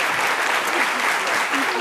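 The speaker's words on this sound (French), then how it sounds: "merci de l'applaudir très fort" An audience at a live show claps in a dense, continuous burst of applause, loud and close, with voices mixed into the noise.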